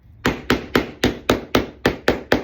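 A small hammer taps pins into a large DIY cemetery saddle, nine sharp, evenly spaced knocks ringing out loud and close with no talking.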